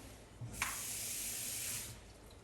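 Tap water running steadily into a container in a home kitchen, a close continuous rushing spray that starts abruptly, holds for about a second and a half, then cuts off, with no voices.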